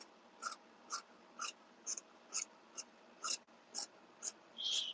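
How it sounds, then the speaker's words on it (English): Scissors snip through fabric during clothing alterations, about ten short, crisp cuts in a steady rhythm, close and fairly quiet against a hushed room. "I'm going to take my scissors"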